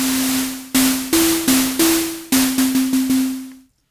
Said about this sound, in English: And the second oscillator, change it to noise.